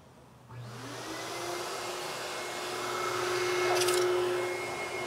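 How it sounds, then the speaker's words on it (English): A powerful car wash air dryer blows water off a Ducati SFV4S motorcycle, a loud, steady rushing roar that starts abruptly and builds gradually, with no talk. "the reason why I like coming to this particular car wash is the air dryer"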